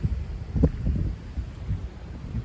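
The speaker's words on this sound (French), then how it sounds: "Très puissantes rafales de vent." Strong gusts from storm Louis buffet the microphone outdoors, producing low rumbling bursts that rise and fall unevenly over a couple of seconds, close and fairly loud, with no voices.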